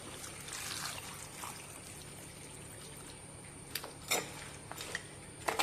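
A quiet, steady rush of water pours into a pot with turmeric, chilli powder and rock salt, with a few light clinks and taps near the end.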